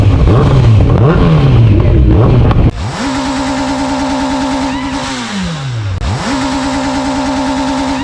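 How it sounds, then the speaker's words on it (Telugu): Superbike engines at a gathering of superbikes, one loud engine roaring hard at first, then a steady high idle that revs up, drops and climbs again in two rising sweeps, close and dominant with no talk. "ఆ సూపర్ బైక్ సౌండ్ ఏంటంటే బూజ్ బంప్స్ వస్తున్నాయి"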